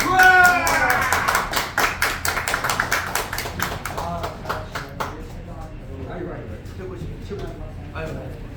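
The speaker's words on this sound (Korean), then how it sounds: "큰 박수로 맞이해주시면 감사하겠습니다." At a graduation ceremony in Korea, a crowd claps in a quick, even rhythm that is loud at first and fades after a few seconds, while people talk over and after it.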